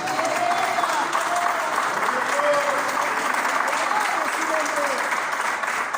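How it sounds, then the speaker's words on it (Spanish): A church congregation breaks into loud, sustained applause, steady clapping from a large crowd filling the room, with voices mixed in beneath it. "Un aplauso fuerte al Señor por eso."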